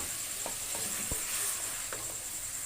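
Half a kilo of green pumpkin pieces dropped into a hot pan of oil, a steady close sizzle with a few soft clicks and stirring scrapes, no voices.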